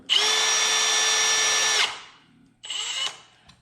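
A power drill whirs loudly and steadily for nearly two seconds, stops, then gives a second shorter burst.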